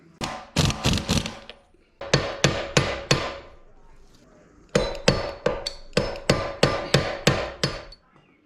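Hammer tapping a transmission nut back down on a Lexus GS400 AR5 manual transmission, four bursts of sharp metallic taps in quick rhythmic runs separated by short pauses, close and loud with no talk.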